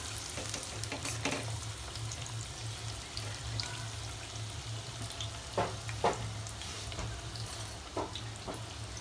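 Chicken lollipops frying in a pan over low heat, a steady close sizzle with a low hum beneath and a few sharp scraping clatters as the pieces are flipped.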